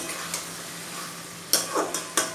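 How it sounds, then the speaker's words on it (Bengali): Fried pointed gourd being stirred into a spice mixture in a pan, with a soft sizzle throughout and several close, sharp scrapes and clatters of the spoon toward the end. "পটলগুলো এর মধ্যে দিয়ে দেবো ভালো করে মিশিয়ে নিই মশলার সাথে"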